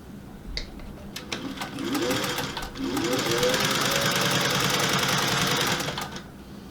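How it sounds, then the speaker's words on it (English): Sewing machine top stitching a raglan sleeve shirt runs in a fast, steady mechanical rattle after a couple of short starts, close and continuous with a rising motor whine. "So I'm just top stitching right past the fold."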